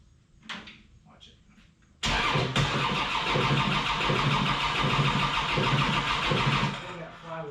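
A Kubota M4700 tractor engine with a knocking fault fires up suddenly after a quiet stretch with faint background sounds. It settles into a loud, steady, close-range running clatter for several seconds before easing off.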